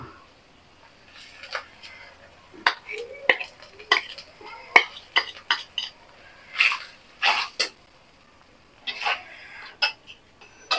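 Ground spices (turmeric, chili, coriander, cumin) frying in oil in a pan for a fish and potato curry, stirred with irregular scraping and clinking strokes of a spoon against the pan, close and intermittent, with brief quiet gaps.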